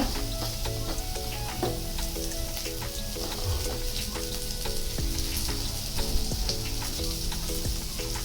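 Sliced onions and green chilies fry in a pan for masala dosa filling, a dense steady sizzle with crackling pops and occasional stirring scrapes, close up and with no talk, while a faint tonal hum runs underneath.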